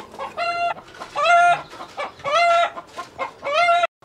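A rooster clucks close by in a rhythmic run of four loud, drawn-out, nasal calls with short gaps between them, heard alone without any talking.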